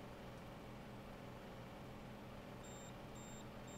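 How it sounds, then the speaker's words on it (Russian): A Volvo truck sounds a high, steady warning beep in the trucking game Дальнобойщики 2, short repeated tones arriving in an even rhythm near the end, faint over a constant engine and road hum. "О, все пищит."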